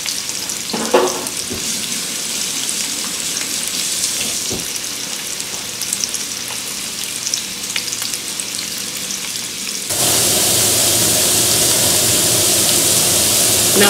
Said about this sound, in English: while your Italian sausage is cooking